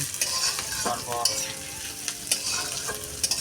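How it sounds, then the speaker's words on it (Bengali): Chopped onion and garlic sizzle in hot oil in a pan, with a steady fry under scattered scraping stirs and clicks of the spatula, close and fairly loud, no voices. "পেঁয়াজ রসুন দিয়ে দিলাম ফোড়ন দিয়ে। ভেজে নিচ্ছ? একটু ভেজে নিই"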